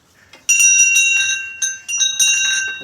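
A small hand bell rung during a puja at a temple, bright metallic ringing in repeated bursts with sustained tones, close and loud.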